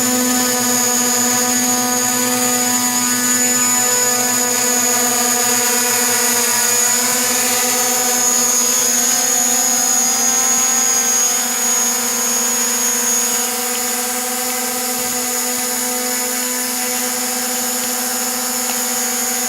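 A DJI Mavic Pro drone fitted with a heavier modded battery flies with a loud, steady, high-pitched whine of its motors and propellers, unbroken the whole time.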